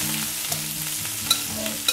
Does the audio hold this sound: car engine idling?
no